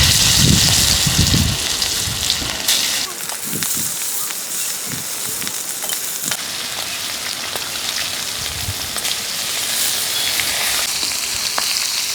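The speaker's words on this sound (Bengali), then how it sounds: "সামুদ্রিক মাছগুলো মেখে নেওয়া হয়েছে, ভেজে নেওয়া হচ্ছে।" Marinated sea fish, tuna among the catch, frying in hot oil, giving a loud, continuous close-up sizzle with crackling pops throughout, and no talk over it.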